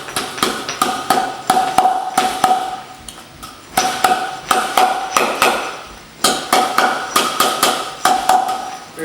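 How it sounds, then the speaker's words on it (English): A hammer taps metal in quick bursts of ringing strikes, grouped in short runs separated by brief pauses, loud and close. "Then tap it with a hammer."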